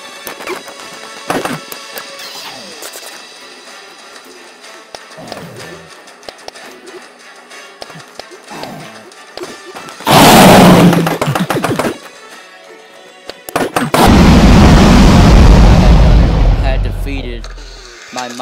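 A Minecraft Pocket Edition Ender Dragon explodes in two loud, sustained bursts of roaring, crackling noise, each lasting a few seconds. Quieter game sounds and occasional short hits come before them.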